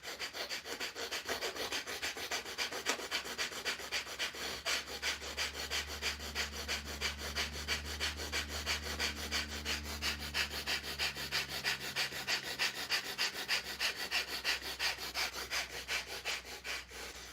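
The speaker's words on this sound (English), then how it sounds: "A little bit of breath fire in through the nose and out through the nose" Rapid rhythmic breath of fire, quick forceful puffs in and out through the nose during a morning meditation, continuous and close, with a low droning tone underneath and no talking.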